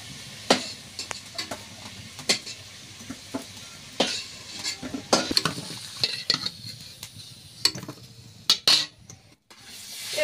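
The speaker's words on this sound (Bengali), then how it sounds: "এবার পেঁয়াজ কষা দিয়ে দিচ্ছি তেলে" Onions sizzle in hot oil in a home kitchen while curry and meat are cooked. A continuous frying hiss sits under frequent sharp clinks and scrapes of a utensil against the pan, with irregular bursts throughout.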